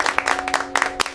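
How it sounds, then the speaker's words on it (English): Students in a classroom clap briefly: a short burst of several sharp, close hand claps with uneven rhythm. "Why are you clapping?"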